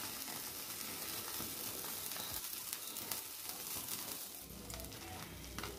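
Whole fish sizzling in a grill pan over medium heat, a steady close hiss and crackle of frying that holds through the clip, with no talk.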